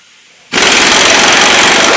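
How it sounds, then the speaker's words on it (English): Pneumatic air impact gun hammering loose the crankshaft pulley bolt on a 2012 Ford Fiesta 1.25 Zetec, bursting on abruptly after a quiet half second into a loud, close, continuous rattling buzz. "I'm now going to whack this crankshaft pulley bolt out just with an air gun"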